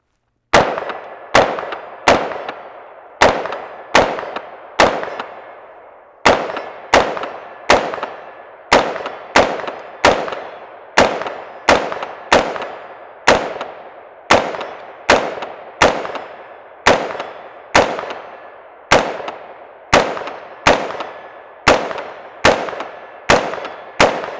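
An Inter Ordnance AR-15 rifle fires outdoors in cold weather, with about thirty loud, sharp shots at a steady, slightly uneven pace, each followed by a short ringing decay and no talking.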